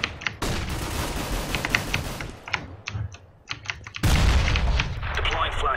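Grenade blast and gunfire in a first-person shooter match: a burst of sharp shots and clatter, a quieter stretch with scattered cracks, then a loud, sustained explosion-like roar at the end, with clicky keyboard-like transients throughout.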